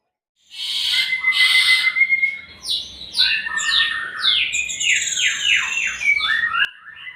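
A white-rumped shama sings a rich, varied run of loud whistles and rapid descending trills, close and clear, with no other sounds.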